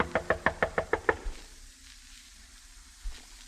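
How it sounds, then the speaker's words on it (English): A door is knocked on in seven quick, evenly spaced raps, crisp and close, followed by a quiet pause and then a single muffled thump. "I knocked hopefully on his door."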